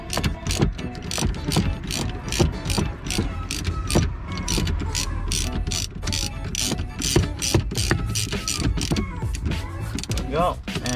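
A ratchet with a 10 mm socket tightens a car battery terminal on a BMW 328i, giving rapid, close clicking in quick bursts with someone talking at intervals.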